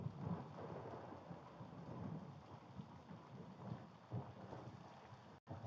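Heavy rain pours steadily in the shooter game Gray Zone Warfare, with deep rolling thunder rumbling underneath and swelling several times, no voices present.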